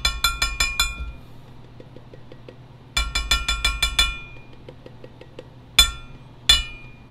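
A drink tumbler with a bare metal bottom, no silicone pad, set down on a hard surface: rapid clanking and rattling bursts, then two sharp single clanks near the end.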